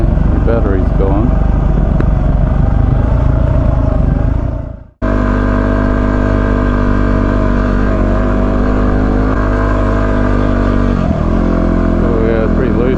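A motorcycle engine idles loud and close after an electric start, a steady running rumble that cuts out briefly midway and then resumes evenly.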